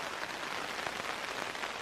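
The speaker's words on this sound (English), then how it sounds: "you can't see much in here, but pouring down rain" Heavy rain pours onto a tent at a Boundary Waters campsite near Ely, Minnesota, a dense, steady hiss of drops drumming close on the fabric, continuous and loud with no voices.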